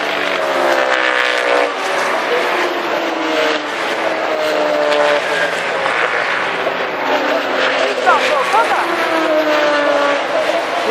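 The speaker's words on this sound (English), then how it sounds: "These cars sound a lot like the 1980s Formula 1 turbocharged, and that's because they are." V4 turbocharged racing cars at Donington Park, sounding like 1980s turbo Formula 1 cars, roar loudly and continuously as engines howl and shift pitch passing close by.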